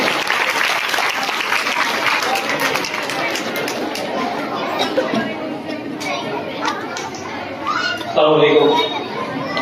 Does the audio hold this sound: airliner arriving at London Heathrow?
no